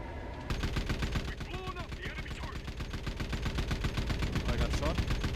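Sustained automatic gunfire striking a player's mech in Armored Core 6, a fast, evenly spaced hail of metallic impacts, loud and close, continuing without pause after a brief quiet start.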